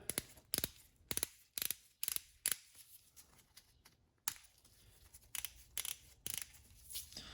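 A used Snap-on click-type torque wrench, 0 to 100 foot-pounds, is handled up close, giving a series of sharp metallic clicks and ratcheting snaps in irregular bursts with quiet gaps.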